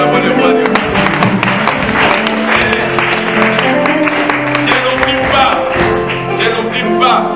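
A church congregation claps and cheers together in sustained, loud applause that fills the room, with voices mixed through it.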